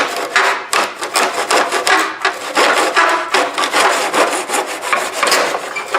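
A hand saw cuts wood held in a miter box, loud close rasping strokes in a steady back-and-forth rhythm, alone without talk.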